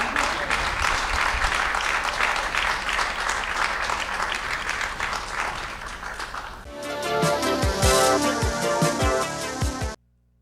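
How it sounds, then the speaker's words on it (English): Steady audience applause at a community event fills the first part, loud and dense, then gives way to music with clear tones and beats until an abrupt stop. "Keep clapping, come on."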